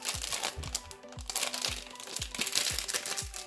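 Hard plastic packaging for a fruit-shaped anti-stress ball being forced open, with close crinkling and crunching and about eight sharp cracking snaps in a steady rhythm, no talk.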